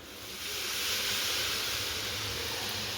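Curry mixture poured into hot tempering oil on a stove sizzles in a loud, steady hiss that swells up within the first half second and holds without break, no voices present.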